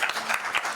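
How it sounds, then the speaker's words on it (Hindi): Audience members at an organizational workshop burst into loud, dense applause, with brief overlapping claps in a short, energetic burst. "मैं चाहूँ कि एक बार फिर जोरदार ताली से स्वागत कर रहे हो मोदी जी को"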